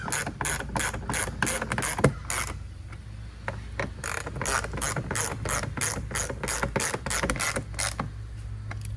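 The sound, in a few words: tightening down Sea-Doo front camera mount fasteners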